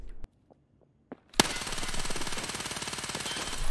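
A Vector submachine gun in Escape from Tarkov lets loose a rapid, dense burst of automatic fire after a few faint clicks and thumps, the rattling shots loud and close, running continuously to the end.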